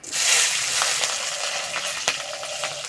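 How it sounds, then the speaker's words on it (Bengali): Slit green chillies sizzle in a little hot oil in a karahi after lentil badi were fried, a steady close frying hiss with a few sharp crackles and pops, no talking. "এই তেলে চেরা কাঁচা লঙ্কা দিয়ে দেবো।"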